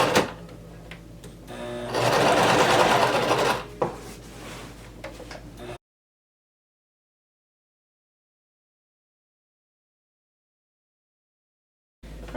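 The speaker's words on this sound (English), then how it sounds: "we're going to stitch right on top of this line that we made" A sewing machine stitches along a marked dart line on shirt fabric, a near mechanical chatter with a louder, faster run of stitching in the middle, then it stops and near silence follows.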